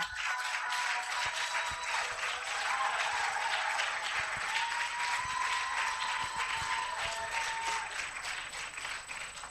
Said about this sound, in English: With a resounding round of applause, let's welcome Professor Issahaku Adam